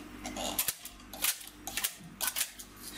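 Domestic knitting machine having stitches dropped off its upper and lower needle beds with a comb, heard as a series of sharp mechanical clacks and rattles in three loud bursts, close up with no talk.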